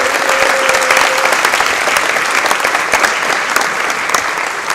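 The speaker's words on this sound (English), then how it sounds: "Please give our officials a big round of applause." A crowd at a high school game applauds the officials, loud, dense and continuous clapping that fills the whole stretch at a steady level without any speech.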